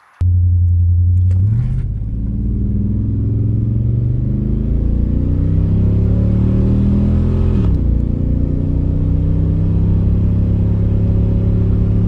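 An auction truck with a rebuilt 6.0 LS engine and hot camshaft accelerates hard from a standstill, its loud, close engine note climbing in pitch through two gear shifts.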